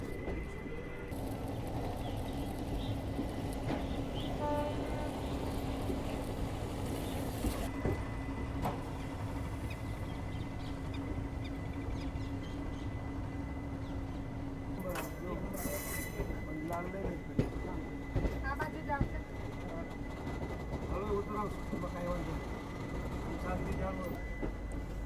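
The Coimbatore–Rajkot express rolls over a curved bridge into Rajkot, with a steady rumble of wheels and a sustained high squeal along the curve, alongside clattering joints and brief faint voices.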